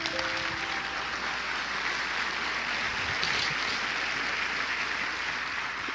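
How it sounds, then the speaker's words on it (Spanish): A church congregation applauds in praise of Jesus, a dense, continuous wash of clapping filling the space at full strength from start to finish. "Denos un aplauso a Jesús por eso"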